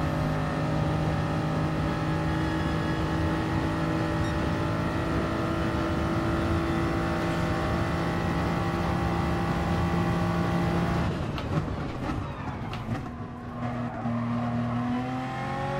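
A race car on soft tyres in GT Sport holds a steady high engine drone for a long stretch, then the pitch shifts and the sound turns rougher with what may be tyre noise near the end, loud and constant with no talk.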